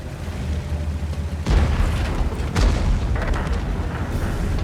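An FV4005 Stage II tank gun fires in an Onslaught-mode video game battle on Mines or Airfield, giving two heavy, booming blasts about a second apart over a steady low rumble of background game noise.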